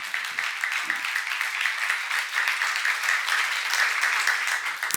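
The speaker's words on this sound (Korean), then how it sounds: "예수를 두려워하면 바른 길을 갈 수 있는 것이면 박수를 하세요." Congregation at a Korean church Bible seminar applauds, a steady sustained clapping that fills the whole stretch at moderate loudness, with a couple of brief low murmurs near the start.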